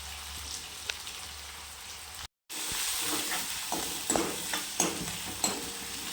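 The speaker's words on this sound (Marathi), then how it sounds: "असं छान परतून घ्यायचा कांदा." Chopped onion sautéing in a pan for pithla, a soft steady sizzle with occasional scraping stirs and small spatula taps, fairly quiet and close, with a brief dropout partway through.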